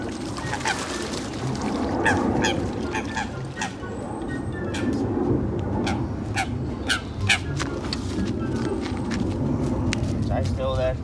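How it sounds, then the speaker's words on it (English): Honking, quacking calls from a duck hooked on a carp fishing line at a lake in summer, repeated excited cries over splashing water, with people talking throughout. "What to do when you hook a duck?"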